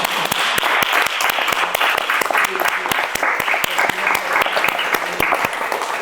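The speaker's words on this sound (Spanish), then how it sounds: "Pues se merece un aplauso." An audience at an autism talk in La Palma del Condado breaks into applause, a loud, steady, close burst of many hands clapping filling the whole span, with faint voices underneath.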